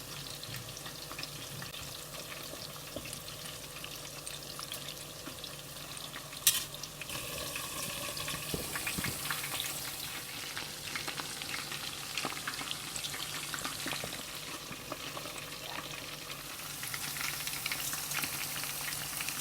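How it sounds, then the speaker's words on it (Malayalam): Chicken frying in oil on high flame gives a steady, dense sizzle that fills the whole stretch, with a brief clatter of stirring near the middle and no voices. "ഇതിനി നന്നായിട്ട് ഫ്രൈ ആയി വരുന്നവരെ നമുക്കൊന്ന് വെയിറ്റ് ചെയ്യാം."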